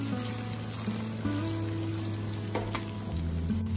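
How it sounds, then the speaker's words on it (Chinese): Tofu slices pan-fry in oil over medium-low heat, giving a soft, steady sizzle and crackle close by, with a quiet tonal background running underneath. "把豆腐的两面都给它煎至金黄"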